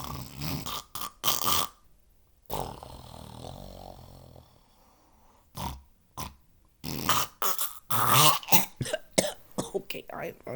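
A voice imitates snoring with drawn-out, rattling throat snores, broken up by loud coughing, snorting bursts and bits of speech, all close and fairly loud.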